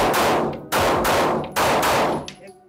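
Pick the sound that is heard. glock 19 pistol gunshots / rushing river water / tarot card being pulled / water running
glock 19 pistol gunshots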